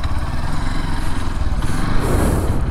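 Off-road motorcycle ridden on a monsoon trail near a dam, its engine droning loud and steady close by throughout, with some rough wind noise over it.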